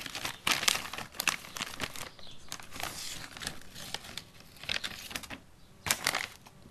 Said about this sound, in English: Let me get this bag out.